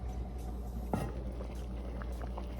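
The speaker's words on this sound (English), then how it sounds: "This is simmering with the potatoes in there" A pot of potatoes simmers on a home stove, a quiet low bubbling with one brief louder splash-like pop, steady and close, with no voices.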